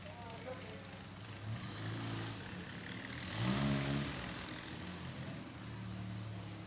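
A 1959 Triumph TR3 Roadster at an outdoor concours gathering, its engine running steadily with one louder rev swelling midway, heard under continuous talk from a nearby announcer.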